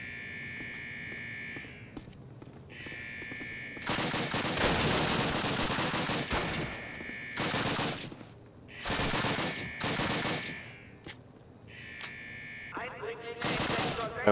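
Submachine gun fire in Call of Duty, several loud close bursts of rapid automatic shots separated by pauses, with a high electronic tone running through the quieter stretches.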